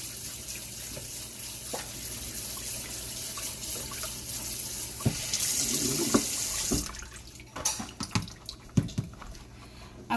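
Kitchen tap water runs over canned black beans being rinsed for corn and black bean salsa, a steady close stream with splashes and sharper knocks and drips toward the end.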